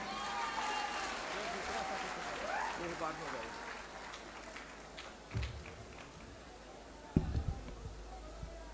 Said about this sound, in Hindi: आप एक जोरदार तालियों से उनका स्वागत करें